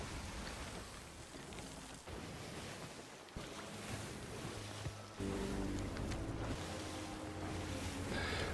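Sailing ship at sea in the game Sea of Thieves, with a steady wash of waves and wind around the hull that grows louder and fuller partway through, joined by low creaking and tonal game sounds.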